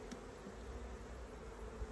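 Honey bees humming at an opened, long-neglected hive during a hive inspection, a soft steady drone at low level with no talk over it.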